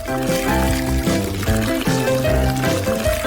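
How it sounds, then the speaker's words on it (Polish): Milk pours into cups in a steady, continuous trickle that stays close and fairly loud throughout, with no voices. "Wlewam mleko do kubków."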